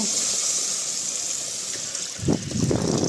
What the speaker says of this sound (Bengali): এরপরে আমরা জল অ্যাড করে দেব